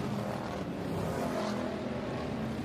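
Hobby-class race cars battle for position on a dirt oval, engines droning in a steady, continuous roar from the pack with no speech over it.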